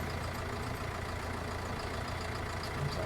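A tractor engine idles in the Farming Simulator 19 game, a steady low, rumbling drone that holds evenly and loudly throughout with no talking.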